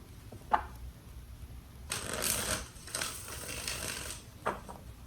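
Tarot cards shuffled by hand, soft papery riffling and rustling in a couple of bursts with light taps, fairly faint and close with no talking.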